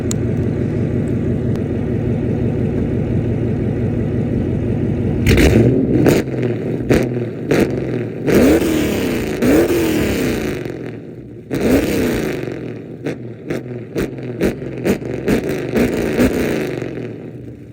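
A 2015 Chrysler 300 Hemi V8 fitted with BBK long-tube headers idles with a loud, steady rumble, then blips through several sharp, aggressive revs that crackle and drop back, close up and dominating the sound.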